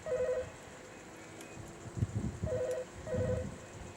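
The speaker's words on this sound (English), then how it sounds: "Phone's ringing." A telephone in a house overlooking the Lane Waring Reservoir near Perth sounds in short repeated bursts of electronic tone, three clusters spread across the moment, moderately near over faint room rumble and scattered handling noise.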